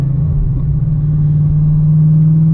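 A Whipple-supercharged Dodge Challenger Scat Pack with CNC-ported heads cruising in traffic: a steady, loud, low engine drone and rumble that holds even throughout, with no voices.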